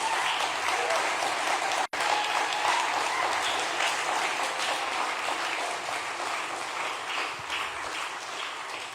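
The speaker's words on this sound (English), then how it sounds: "Can we get a big round of applause for our panel?" Audience applause fills a civic hall after a panel is introduced at a Free Julian Assange event in Mullumbimby, a dense, steady wash of clapping lasting the whole stretch with a brief dropout near the start.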